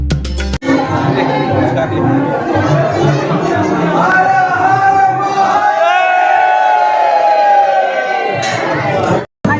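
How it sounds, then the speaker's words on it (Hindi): A dense crowd of worshippers packs a temple on Shivratri, a loud continuous babble of many voices with chanted or shouted calls rising over the din, close and steady until a brief cut near the end. "दोस्तों बहुत भीड़ है आज बाबा के दर्शन के लिए।"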